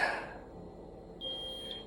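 A ketone meter gives a short chirp, then a steady high-pitched beep sounds after a brief quiet pause.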